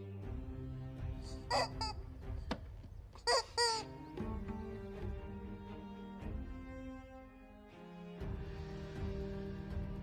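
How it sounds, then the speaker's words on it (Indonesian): A rubber chicken toy squeaks in long, wheezing honks, several times in a row, interspersed with sharp higher squeals. "Karena terlalu sakit, Lu Ziming menggigit mainan ayam yang berbunyi."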